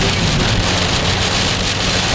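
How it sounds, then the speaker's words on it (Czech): Dense, loud hail and large raindrops pelt steadily during a multicell thunderstorm, a continuous broadband roar with no talk over it. "Kroupy."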